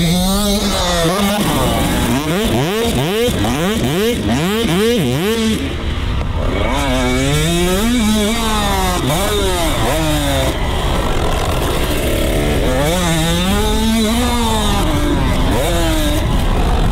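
Dirt bike ridden on a supercross track, its engine revving hard in rapid rising and falling bursts through gear changes and whoops, loud and close throughout, with a voice faintly underneath.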